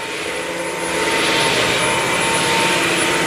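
A Bissell CrossWave OmniForce cordless wet-dry floor mop runs in suction-only mode, producing a steady, close whirring motor hum that grows slightly louder after the first second and holds there, with no talking.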